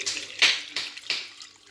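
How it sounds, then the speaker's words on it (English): Water splashes into a cooking pot of seasoned meat with salt, pepper and onion in three or four short, bright bursts of pouring, close and moderately loud. "So right now we're going to add in a little water."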